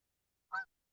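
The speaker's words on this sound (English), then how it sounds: "I about had a goose swim through my line a little bit ago with babies behind him." A single short goose honk, faint and somewhat distant, heard alone against silence.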